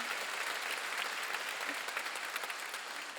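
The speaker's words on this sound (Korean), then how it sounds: "박수를 하나 더 해주세요" A church congregation applauding during a Wednesday worship service, a sustained, even clatter of many hands that carries on for a few seconds and eases slightly toward the end.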